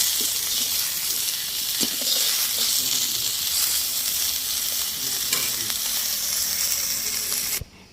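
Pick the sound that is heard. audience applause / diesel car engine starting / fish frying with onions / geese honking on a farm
fish frying with onions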